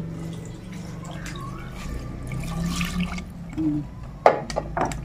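Water trickles and drips into a pot of bamboo shoots, with gurgling splashes and a louder clunk and slosh near the end, fairly close.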